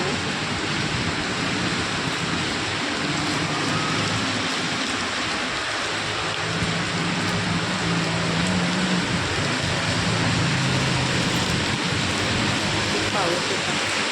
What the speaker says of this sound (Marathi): त्याच्यानंतर त्याला पाऊस सुरू झाला मित्रांनो.